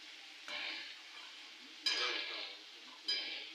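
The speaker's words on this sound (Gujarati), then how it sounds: "કાંદા સતળાઈ ગયા છે, હવે તેમાં નાખી દઈએ ટમેટા" Tomatoes are stirred into sautéed onions in a pan, three separate scraping stirs over a gentle sizzle, close and fairly quiet, with no talking.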